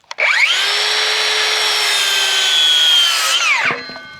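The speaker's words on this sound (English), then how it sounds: "we're gonna cut a whole bunch of our studs right down to the 7-foot height" A power saw spins up and cuts through wooden studs, trimming them to a seven-foot height for framing a wall: one loud, steady, whining cut of about three seconds that winds down at the end.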